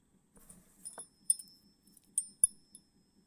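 Keys jangle and clink close by in a few short, bright bursts separated by quiet pauses, with no talking.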